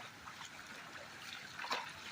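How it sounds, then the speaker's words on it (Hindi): Floodwater from a swollen river rushes across a footpath near a suspension bridge, a steady wash of flowing water with a brief splash, heard faint and continuous. "कितना तेज पानी चल रहा है इसमें"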